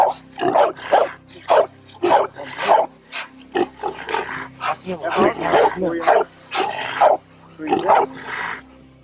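Several hunting dogs bark in repeated bursts, close by, during a wild hog hunt, mixed with people talking over them throughout.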